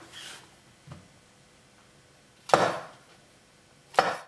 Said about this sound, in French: Une fois qu'on a pelé les champignons, on va les couper en 4,